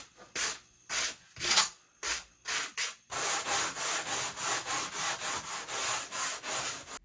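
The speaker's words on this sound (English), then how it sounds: "I've got a dry sanding sponge. I'm just going to go ahead and kind of knock that edge off" A dry sanding sponge rubs back and forth along the edge of a freshly cast concrete countertop, giving a harsh, close scraping sound. Short separate strokes come first, then a run of quick, steady passes with no pauses, and nobody talks.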